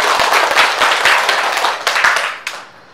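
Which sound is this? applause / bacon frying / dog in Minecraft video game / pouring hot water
applause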